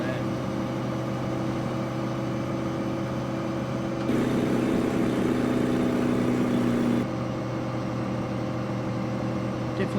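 Truck engine in American Truck Simulator heard from a third-person view outside the cab, a steady droning hum that rises into a louder, higher-pitched rev for a few seconds midway before settling back.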